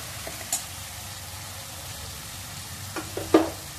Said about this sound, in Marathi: याला तेल सुटेपर्यंत मस्त असं परतून घ्यायचं आहे 2 ते 3 मिनिटं